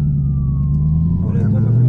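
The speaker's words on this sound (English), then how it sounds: "Who they coming for? Oh, the ambulance." An ambulance siren passing near a car on a public street, a sustained wailing tone sliding slowly downward over a low vehicle rumble, loud and close, with no speech.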